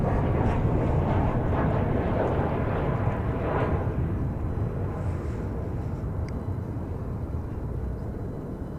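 Delta Airbus A220 jet taking off from runway 18 left at DFW Airport, a loud, steady broadband engine roar that holds strong throughout, swelling slightly early on, with no talk.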